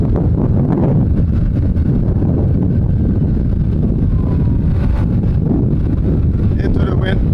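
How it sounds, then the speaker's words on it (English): Strong headwind buffets a cyclist's microphone during a race, a constant roaring rumble that fills the whole clip loudly and without pause, with no voices present. "plus you have a very strong headwind"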